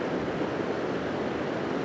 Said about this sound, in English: I've brought myself back to this beautiful little